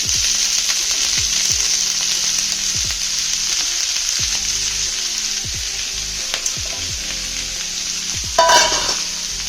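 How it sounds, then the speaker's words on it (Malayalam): Chopped spinach stirred into browned onions in a hot pan, with a steady loud sizzle and repeated scraping stir strokes throughout, plus a brief louder clatter near the end. "നമുക്ക് ഇതിലേക്ക് അരിഞ്ഞു വെച്ച ചീരട്ട് കൊടുക്കാം"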